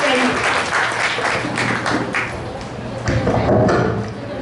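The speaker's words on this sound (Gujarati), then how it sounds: "આપણે ઠાકોરભાઈને તાળીઓના ગડગડાટથી વધારીએ" Applause for Thakorbhai at an annual function of a senior women's group, steady clapping from an audience in a hall, fairly loud and continuous with a slight swell near the end.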